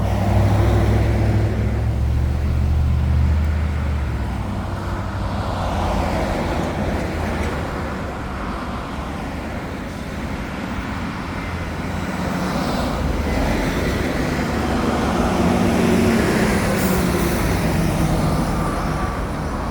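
Road traffic moving along a ridge roadway, a continuous broadband rumble of passing vehicles that swells and fades gently, with a loud low drone near the start.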